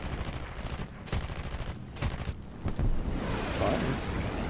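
Aircraft machine guns firing in the War Thunder video game, several rapid bursts of gunfire separated by brief pauses over a continuous engine roar.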